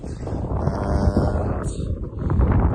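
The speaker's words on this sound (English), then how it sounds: "Pretty windy" Wind buffets the microphone on open moorland in a loud, low, continuous rumble with gusty fluctuations, no voices.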